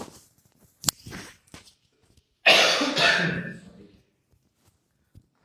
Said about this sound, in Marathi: भयानक खोकला झालाय.